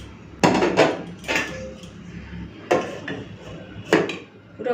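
Hot rice and mushroom curry are served, with dishes and utensils knocking and clinking in a few distinct, close clatters spread apart by quieter moments.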